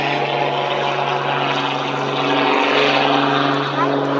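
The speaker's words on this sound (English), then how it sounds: "You hear the engine and those wingtips growling with that iconic sound." A propeller aircraft's engine drones steadily overhead at an Arctic Thunder airshow, a sustained loud growl with a low humming tone throughout, and a voice commenting over it.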